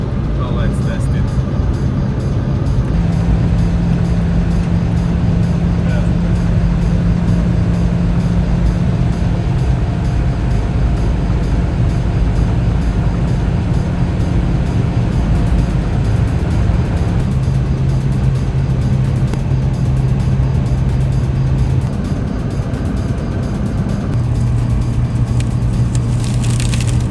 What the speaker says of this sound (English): we can test what kind of maximum speed this car has